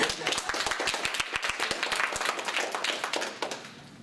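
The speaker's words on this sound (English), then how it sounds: "Let's clap." An audience claps at an intercultural speech, steady dense applause with sharp individual claps standing out, sustained evenly for several seconds before thinning slightly.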